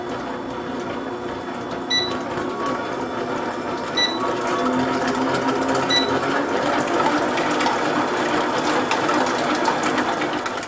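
An electric mixer beats muffin batter of eggs, vegetable oil, sugar and pumpkin, a steady close whirring drone that grows slightly louder as the speed builds, heard alone without talk.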